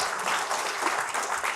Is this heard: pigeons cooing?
no